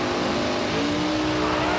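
Dragster engine roaring at launch on a drag strip during a cash drag racing event, a loud, continuous, rising engine howl close by.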